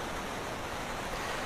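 A waterfall in the video game Final Fantasy 4 gives a steady, dense rushing hiss, loud and unbroken, with no voices.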